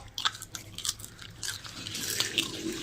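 Someone bites and chews home-cooked food at close range, with a few crisp crunching bites early on that give way to softer, moist chewing, and no talk over it.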